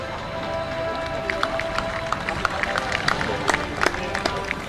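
Crowd cheering and applause at a show jumping prize ceremony for the Grand Prix winner, a dense continuous roar of clapping and cheers with sharp claps poking through, people talking in the mix.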